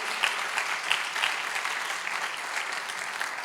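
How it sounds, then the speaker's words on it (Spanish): A church congregation claps in steady, dense applause during a sermon on the Book of Romans, the sound even and sustained throughout with a few sharper individual claps standing out, no voice above it. "Si va a aplaudirle, apláudele a Él."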